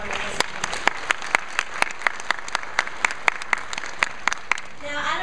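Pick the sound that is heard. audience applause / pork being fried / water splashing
audience applause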